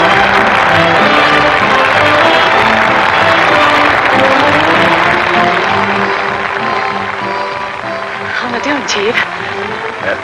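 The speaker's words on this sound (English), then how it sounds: "That noise is applause, isn't it?" Crowd applause from a 1939 film, a thick continuous roar of clapping and murmuring voices that fills the scene, loud and sustained before thinning slightly toward the end.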